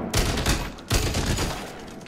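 Gunfire in the free third-person shooter SYNCED during a raid: two heavy, loud shots about a second apart, each followed by a long rumbling decay, close and dominating with no speech.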